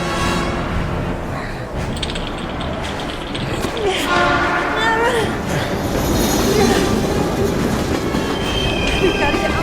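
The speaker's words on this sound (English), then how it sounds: "We've got to get on that train, Ethan." A train rolls by with steady rumbling wheel clatter and some metallic squealing, while voices talk over it throughout.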